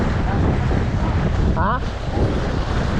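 Strong wind buffets a fishing boat at sea, roaring steadily across the microphone while someone briefly speaks over it.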